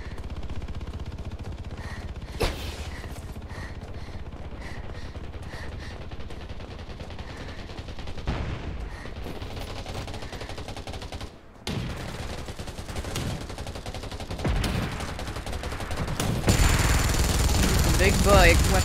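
Sustained bursts of heavy-weapon fire in the video game Undawn, dense rapid shots rolling over a loud continuous background, briefly cutting out midway before resuming louder, with a voice talking through parts of it.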